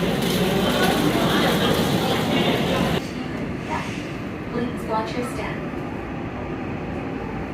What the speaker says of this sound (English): So let's get on the subway here